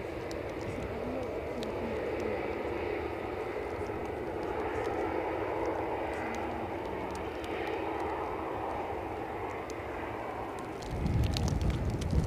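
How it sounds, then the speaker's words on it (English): Turkish Airlines Airbus A321neo arriving at a wet, gusty airport, a moderate jet rumble under wind and patter, with a sudden louder low roar near the end; a voice speaks over it. "Turkish next in with an A321 Neo, 6 years of age, inbound from"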